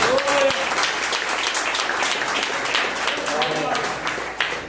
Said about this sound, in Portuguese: Você pode aplaudir a Jesus mais uma vez.